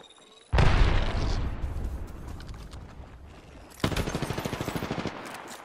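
Rapid gunfire in the battle royale shooter Apex Legends, a loud sudden burst followed by sustained rattling fire, then a second clipped volley of evenly spaced shots near the end.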